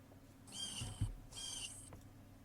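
Two high, drawn-out bird calls of about half a second each, close and fairly quiet, with a soft thump between them.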